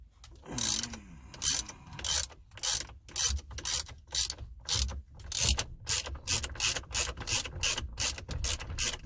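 A ratchet wrench clicks in quick bursts while reinstalling the bolt that holds the steering wheel on an '08 Ford Crown Victoria Police Interceptor, close and crisp, with short pauses between strokes.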